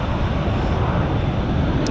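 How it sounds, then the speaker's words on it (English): An airplane passes overhead, a broad, steady roar of engine noise filling the whole stretch at moderate loudness with no voices. "oh, here comes a plane"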